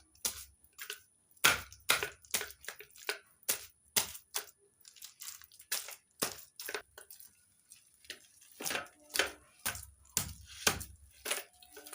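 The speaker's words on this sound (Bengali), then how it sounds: "এবার তালের আটি এভাবে মেরে মেরে একটু নরম করে দিচ্ছি" Ripe palm fruit seeds are beaten again and again to soften them, giving sharp, wet, crunching thwacks in an irregular rhythm, close by with quiet gaps between strikes.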